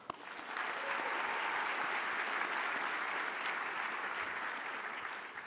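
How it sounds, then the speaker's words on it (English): An audience at an awards ceremony breaks into applause, a broad, even wash of many hands clapping that swells quickly and holds steady at a moderate distance. "Round of applause."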